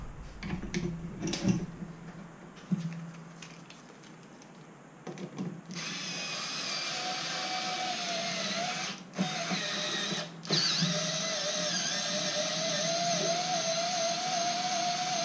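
A power tool whirs in steady bursts tightening bolts while assembling an airsoft Carl Gustav launcher, close and loud, with brief pauses between runs and some clicks and rattles of handling before it starts.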